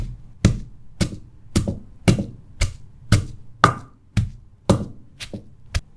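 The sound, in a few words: pounding roasted herbal jamu ingredients until fine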